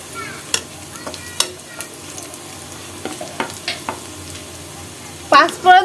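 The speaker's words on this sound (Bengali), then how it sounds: "এখন আমি এখানে দিয়ে দিচ্ছি পাঁচফোড়ন" Panch phoron spices sizzle in hot oil with browned onions in a home pan while a spoon stirs, scraping sharply now and then. A louder crackling burst comes near the end.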